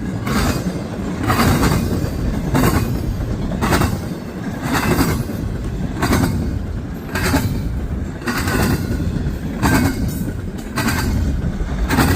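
Railcars roll by close and loud, wheels clacking over rail joints in an even, repeating beat under a constant heavy rumble.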